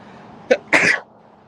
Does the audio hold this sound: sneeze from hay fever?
yes